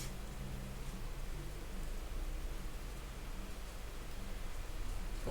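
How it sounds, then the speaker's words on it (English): Steady rain falls throughout, a continuous broadband patter and wash heard alone at moderate level with no voices. "Oh, it's raining."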